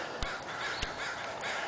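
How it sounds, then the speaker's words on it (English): Crows caw outdoors near a worm bin, giving two sharp, separate calls over a steady wash of background noise. "You can see we have a bunch of crows over there"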